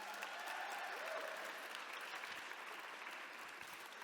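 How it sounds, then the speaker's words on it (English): Audience applause at a social innovator showcase event, steady continuous clapping from a crowd heard fairly faint and distant throughout, with no pause. "Another round of applause for them."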